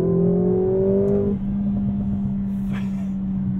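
A 2022 Mercedes-AMG GLA45 in Sport Plus or Race Drive mode on a launch-control 0-60 run: a loud, steady engine drone that shifts pitch partway through as the car pulls hard, heard from inside the cabin.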